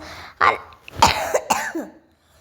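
A few harsh coughs in quick succession from a persistent cough, close and loud, with some throat clearing.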